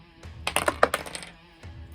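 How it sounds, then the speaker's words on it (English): Dice clatter and tumble across a tabletop during a Warhammer 40k tabletop battle, a quick burst of hard rattling clicks lasting under a second, close and alone. "we're going to roll off for attacker and defender"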